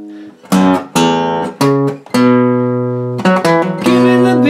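Guitar bass line from a song played as a series of plucked low notes with chord strums between them, each ringing before the next attack. Loud and close with no talking.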